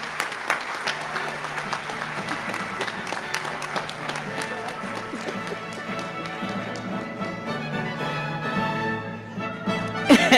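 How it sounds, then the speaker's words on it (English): An audience at a medical school white coat ceremony claps steadily for about ten seconds, a dense patter of many hands with some crowd voices mixed in. "Let's give her a round of applause"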